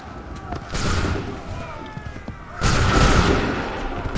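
Musket volleys crack out on a battlefield in Assassin's Creed 3, with a dense burst of gunfire followed by a second, louder volley amid shouted commands and battle noise.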